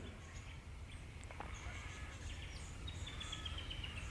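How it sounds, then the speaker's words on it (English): Faint birdsong, with thin high chirps and trills, drifts over a low steady outdoor rumble, distant and quiet throughout. "The birds"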